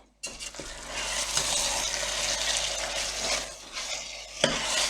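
Lamb curry meat for a pasanda is stirred in a hot pan, with close, continuous scraping and sizzling.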